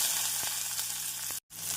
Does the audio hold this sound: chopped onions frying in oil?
yes